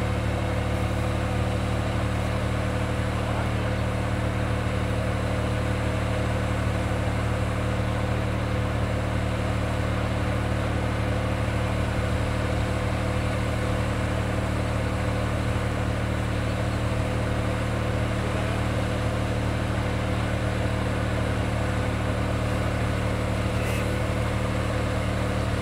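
A loud, steady engine drones continuously, a low humming rumble with no pauses, close by and unchanging for the whole stretch.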